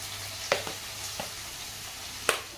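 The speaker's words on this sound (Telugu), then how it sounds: "మొలకలు అయితే కొంచెం ఫ్రై అయ్యాయి." Sprouts frying in a pan for a sprout curry, a steady soft sizzle with a few sharp stirring clinks and scrapes spaced through it.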